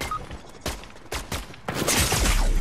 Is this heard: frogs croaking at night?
no